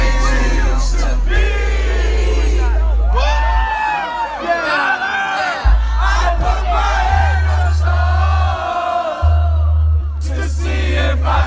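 Concert crowd yelling and cheering during a song, loud and sustained over a heavy pulsing bass beat with rising shouts and whoops throughout.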